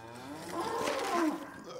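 Cattle at a farm feeding time, a single long, close moo that swells and then tails off over nearly two seconds.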